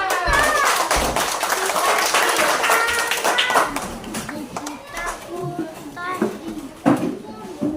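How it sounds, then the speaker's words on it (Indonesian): Schoolchildren in an elementary classroom clap their hands during a movement song lesson, rapid scattered claps mixed with lively children's voices and chatter, loud at first and then thinning into sparser claps. "Tepuk tangan semua."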